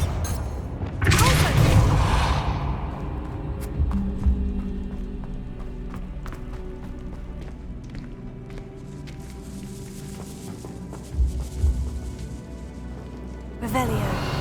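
A Bombarda explosion spell goes off in the video game Hogwarts Legacy, a loud booming blast at the start followed by rumbling debris, with a few more impacts later under ongoing game sounds.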